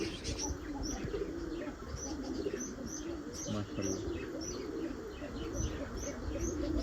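Pigeons and doves coo softly at mid distance, with repeated light chirps and faint wing flutters over a steady outdoor background.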